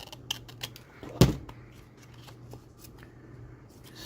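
Scissors snip through file folder paper in a handful of quiet, close cuts, with one sharper, louder snip near the middle and soft rustling between.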